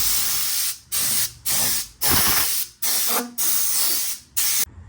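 Compressed air blasts metal shavings off a work surface ahead of welding, in seven loud, steady hissing bursts of roughly half a second each, divided by short pauses.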